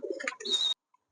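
A pair of silver King fancy pigeons gives a single short, close coo lasting under a second, followed by silence.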